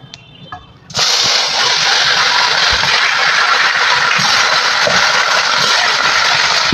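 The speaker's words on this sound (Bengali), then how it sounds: "প্রথমে আমি মাছগুলোকে খুব ভালো করে ভেজে নেব।" Pieces of shol fish hit hot oil after a quiet moment, bursting into a loud, continuous, close-up sizzle that holds steady to the end.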